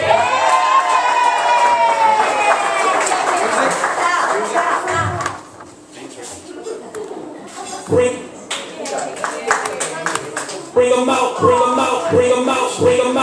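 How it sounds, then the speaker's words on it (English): Wedding party crowd at a beach hotel reception cheering, whooping and clapping as members are announced, loud and continuous with an announcer's voice over a PA mixed in. "Put your hands together for them."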